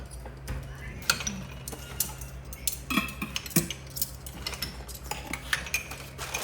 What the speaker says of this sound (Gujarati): ચમચો મૂકી દઉં બધાના